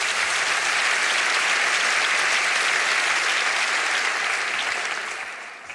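A studio audience at an Austrian TV comedy show gives steady, loud applause for a featherweight contender introduced in the right corner, sustained for about five seconds and tapering slightly at the end, with no voices over it.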